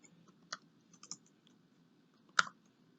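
Computer keyboard typing a machine name: a few sparse, quiet key clicks spread out over a few seconds, with one sharper keystroke near the end, close and without speech.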